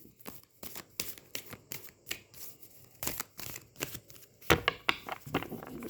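Osho Zen tarot cards are shuffled by hand, a quiet series of irregular riffling slaps and soft flicks close to the listener, with no speech.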